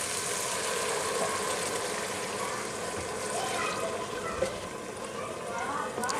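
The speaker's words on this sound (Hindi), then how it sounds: "अब मैं इसमें 500 ml पानी शामिल करूंगी।" Water poured into frying mash dal (split urad lentils) in a pan, a steady rushing hiss and bubbling running continuously under a voice.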